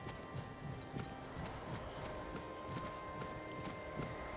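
Horse hooves clip-clop in a steady walking rhythm in Tainted Grail: Fall of Avalon, moderately near over a continuous low ambient background, with no speech.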